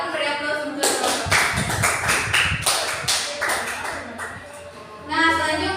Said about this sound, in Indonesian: Silakan beri aplaus untuk teman-teman.